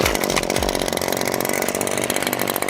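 A gas string trimmer (weed whip) engine runs right after starting, a loud, close, buzzing two-stroke drone held at a steady pitch.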